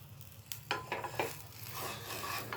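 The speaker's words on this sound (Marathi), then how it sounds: "आणि दोन्ही बाजूनी खरपूस भाजून घेऊया। तर दुसऱ्या बाजूला बटर लावून घेते" A buttered sandwich toasts on a hot pan, a soft steady sizzle running throughout with several light scraping, rubbing strokes from the spatula as it is pressed and turned.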